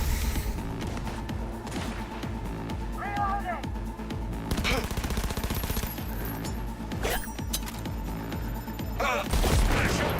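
Rapid gunfire bursts and booming grenade blasts in the video game Cyberpunk, loud and dense across the whole stretch, with a voice talking over the combat.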